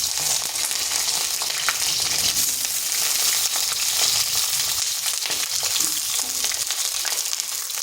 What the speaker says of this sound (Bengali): এরপর ওই তেলের মধ্যে দিয়ে দিচ্ছি বেগুনগুলো।